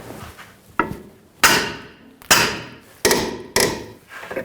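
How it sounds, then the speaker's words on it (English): A 19mm socket and wrench work the rear suspension knuckle nut and bolt on a 2003-2008 Subaru Forester, giving six sharp, close metallic knocks at uneven intervals with no talking. "use a 19mm socket on the nut, 19mm wrench on the bolt, loosen the nut up"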